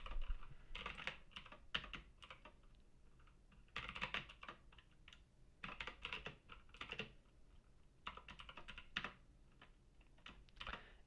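HTML code being typed on a computer keyboard: quick bursts of soft key clicks in uneven clusters with short pauses between them, close and fairly quiet.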